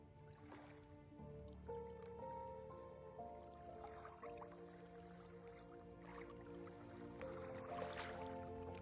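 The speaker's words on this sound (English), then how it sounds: "Just listening to the water." Water drips and trickles close by in a quiet, echoing space, with irregular soft plinks and gentle sloshing at a faint level.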